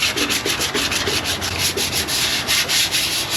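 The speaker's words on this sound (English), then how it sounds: "Now for the prep. And the reason I'm sanding this at all" Steady abrasive sanding on the steel body panel of a 1962 Chevrolet C10 pickup during prep for primer, a close, continuous rasping scrub with a quick back-and-forth rhythm.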